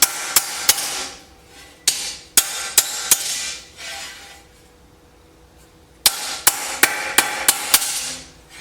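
Sharp metal hammer strikes ring out on a bent length of steel rebar being straightened for a garden trellis, coming in quick bursts of two to five blows separated by quiet pauses, loud and close with no talk.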